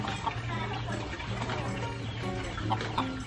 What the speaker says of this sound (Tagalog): Katuwa yung mga manok ni Uncle